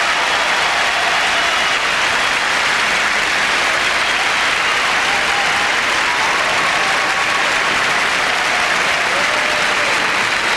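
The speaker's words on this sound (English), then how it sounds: "Appreciative crowds" A large arena audience claps for a men's original program at the 1992 Albertville Olympic figure skating, with loud, dense, sustained applause throughout.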